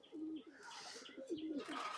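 Banaras pigeons coo in repeated soft, throaty phrases, with a few lighter chirps from other birds mixed in close by.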